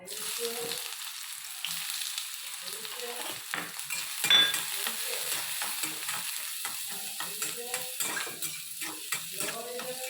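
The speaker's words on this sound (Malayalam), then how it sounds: "ഉള്ളിയും തക്കാളിയും പച്ചമുളകും ഒക്കെ ഒന്ന് വഴറ്റിയെടുക്കാം" Onion, tomato and green chilli sautéing in hot oil in a cheenachatti on the stove, a continuous sizzle with repeated scraping strokes of a spatula and light metallic clinks, close and steady throughout, with no talking.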